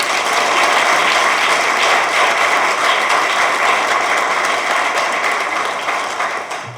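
Dense, sustained applause fills a hall at a Tamil film appreciation ceremony, a broad crackling roar of many hands clapping together at steady loudness that tapers slightly at the end.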